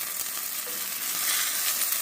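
Quesabirria taco with cheese frying in a hot pan, a steady, close, dense sizzle with crackling texture throughout, no voices.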